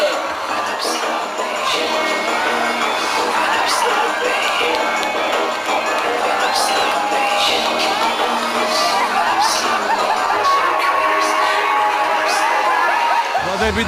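A live studio audience at a Georgian televised contest breaks into loud cheering and applause, with whoops, shouts and chatter forming a dense, sustained crowd roar close by.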